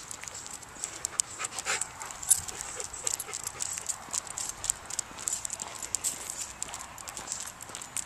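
Dog out on a walk, heard as close, busy clicking and scuffing steps along with panting, running steadily throughout at moderate loudness with no clear talk.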